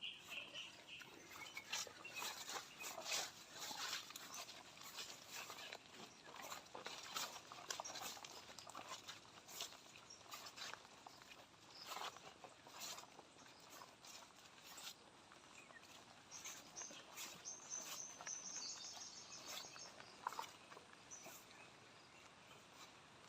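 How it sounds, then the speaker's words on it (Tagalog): Rain falling on a farm lot in Santa Maria, Laguna, with mango, santol and coconut trees: a faint, steady patter across the whole stretch with light broadband hiss and no talking. "naulan na naman"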